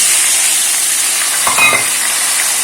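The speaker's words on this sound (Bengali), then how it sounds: "অন্য সময় হলে আলু বেগুনটা ভেজে তুলে নিই, আর সব একসাথেই দিয়ে দিলাম। একটু ভাজা ভাজা" Potato and eggplant pieces fry together in a pan of oil, giving a steady, bright, close hiss with a brief clatter partway through.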